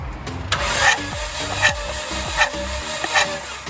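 A hard-starting car engine cranks on its starter during a cylinder compression test, a series of rhythmic, labored whirring strokes that rise and fall about once every three-quarters of a second, close and loud.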